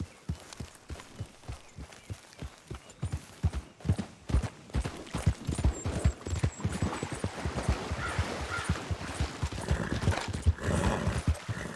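Horse hooves clip-clopping steadily while riding in Red Dead Redemption 2, a brisk rhythmic gait that grows louder and busier, with a brief whinny.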